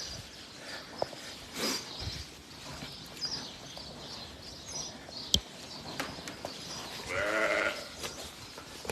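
Sheep and lambs in a lambing shed give a few scattered bleats, including a clearer drawn-out one near the end, amid shuffling, footsteps and occasional knocks in the background.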